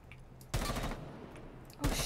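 Two separate bursts of heavy-recoil weapon fire in a video game, each a short dense volley, fairly faint overall with quiet background between them.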